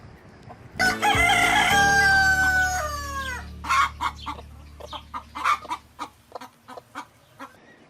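Backyard chickens with a rooster giving one long, loud close crow, followed by a run of short clucks and calls from the hens that fade toward the end.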